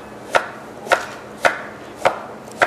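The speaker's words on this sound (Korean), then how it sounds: "당근을 썰어 보도록 하겠는데요" A knife chops carrots on a cutting board for a beef bulgogi hot pot: five crisp, evenly spaced thuds about half a second apart, close and distinct against quiet background.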